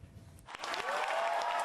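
Cheering and applause burst out as the comedian Yoo Byung-jae walks on at a university career mentoring lecture in Busan, building quickly after a quiet start and holding as a dense, fairly distant crowd roar.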